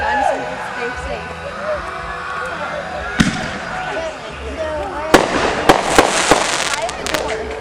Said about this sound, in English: Shooting the fireworks with the plastic gun